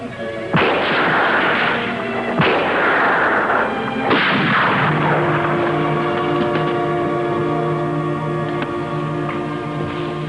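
Three loud, booming gunshots spaced about two seconds apart, each with a long ringing decay, the last trailing into a sustained low hum, with no talking.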